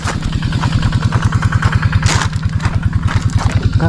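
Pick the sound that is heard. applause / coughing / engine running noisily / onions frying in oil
engine running noisily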